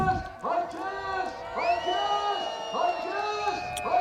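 Crowd at a World Sidecarcross Championship Grand Prix in Lommel whooping and cheering in repeated bursts, with a loud announcer-style voice calling over the noise.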